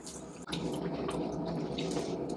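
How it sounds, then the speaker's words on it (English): Continuous watery sloshing and swishing close up as goat fiber is pressed into water in a bin, with faint dripping and a brief dip in the middle. "press it into the water"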